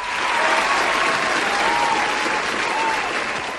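Applause sound effect played on a Hindi radio film quiz show, a continuous wash of crowd clapping with light cheering, loud and steady throughout with no pauses.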